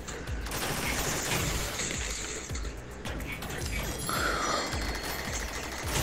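Rapid gunfire crackles in the VR video game Rec Room, a dense fusillade of overlapping shots and mechanical clatter running throughout, loud and busy with no clear pauses.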